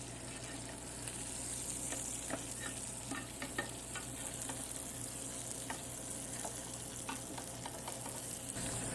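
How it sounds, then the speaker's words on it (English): Osso bucco meat sears in a hot pan with a steady, close sizzle and scattered crackles and pops, along with a constant low hum in the background. "And now we will sear these on both sides."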